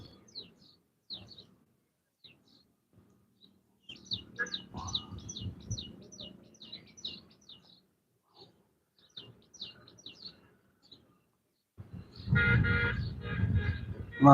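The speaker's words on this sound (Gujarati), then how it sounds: "પક્ષી બોલતા હોય" Village birds chirp in quick, repeated high calls, some close and some farther off, with scattered thumps and a burst of louder rumbling noise near the end.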